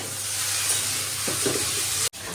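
Steady loud sizzling of potatoes frying in a pan, with a couple of soft stirring scrapes midway and a brief cut near the end.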